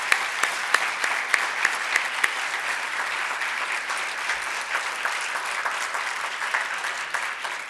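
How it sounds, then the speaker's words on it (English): An audience applauds steadily for graduate student interns at an awards ceremony, a sustained wash of clapping with a few louder individual claps standing out near the front. "let's give them a round of applause as well"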